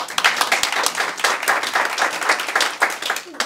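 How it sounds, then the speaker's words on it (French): A close, loud burst of enthusiastic applause from an audience at an improv comedy cabaret show, with many hands clapping densely and without pause. "Applaudissez."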